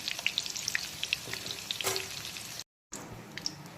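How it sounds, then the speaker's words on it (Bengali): Potatoes and okra sizzle in hot oil for a ladyfinger curry, a steady close crackle with sharp pops and spatters and a few stirring scrapes, briefly cut off near the end. "এখন এই তেলেই দিয়ে দেব ঢ্যাঁড়সগুলোকে সবার প্রথমে একটু ভেজে নেব"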